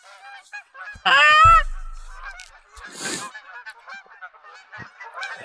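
Geese in theHunter: Call of the Wild honk loudly and repeatedly at close range, with one burst of overlapping calls and a whooshing flurry, then scattered fainter honks.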